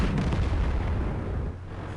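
Tank gun firing in World of Tanks, a deep booming blast that rolls into a rumbling decay, loud and close, with no talk over it.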